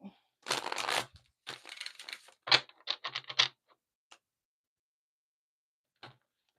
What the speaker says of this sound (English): I don't know why my shuffling is off today.